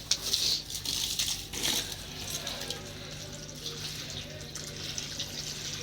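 Tap water runs steadily while potted plants are watered at home in hot weather, a continuous splashing hiss with a low constant hum underneath.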